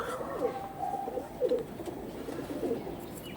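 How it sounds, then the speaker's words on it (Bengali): Domestic pigeons kept for sale, several soft, throaty coos repeating at a relaxed pace close to the microphone, with only faint talk in the background. "খুব সুন্দর কোয়ালিটির পায়রা"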